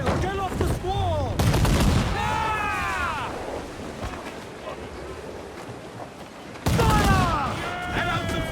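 Ship cannons in Assassin's Creed 4 Black Flag boom in loud broadside bursts over rushing wind and sea, with shouted crew orders between the volleys.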